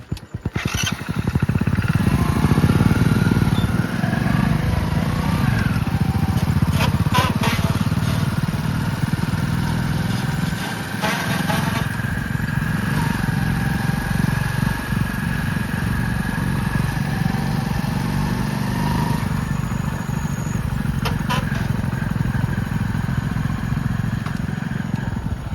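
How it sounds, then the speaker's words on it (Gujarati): A motorbike engine runs steadily and close for the whole stretch, a continuous low rumble with some clatter and brief louder bursts, with no talk over it. "જલ્દી જલ્દી બાઈક ચાલુ કર"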